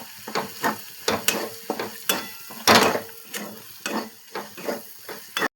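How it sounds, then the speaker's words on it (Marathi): Two spoonfuls of gram flour (besan) roasting in a pan over ginger-garlic paste for a potato and pea curry, with a soft sizzle and repeated scraping strokes of a spoon at a steady rhythm. "आता आपण याच्यात 2 चमचे मी बेसन घेतलं होतं ते चांगलं भाजून घेऊया"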